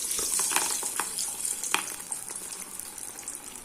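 Masala vada dough balls frying in oil in a kadai, a bright, crackling sizzle with scattered pops, moderately close and fairly quiet.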